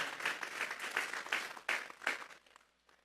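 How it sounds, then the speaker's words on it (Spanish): A church congregation applauding as an offering of praise during a sermon, a few broad bursts of clapping swelling and fading over a couple of seconds before dropping to near silence. "Vamos a darle una ofrenda de palmas a Dios en esta hora."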